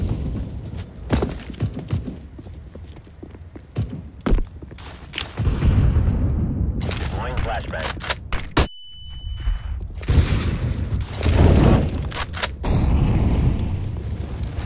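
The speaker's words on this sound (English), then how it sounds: "Grenade out. Throwing grenade." Grenade blasts in the first-person shooter Counter-Strike: Global Offensive, several loud, booming detonations spaced through a busy stretch of gameplay noise, with radio voice callouts in between.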